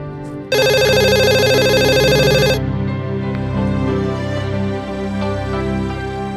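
A telephone rings loudly with one bright electronic ringtone burst lasting about two seconds, then lower tonal music continues underneath with no speech.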